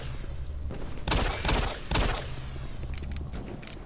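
Pistol shots in Doom 3 ring out as several sharp, loud cracks in quick succession over a low humming game background, with a few fainter clicks near the end.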